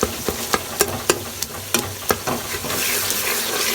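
Chicken curry masala fries in ghee in a home kitchen pan while being stirred, with a steady close sizzle broken by sharp spoon scrapes and clacks in the first half, then a denser, continuous frying hiss.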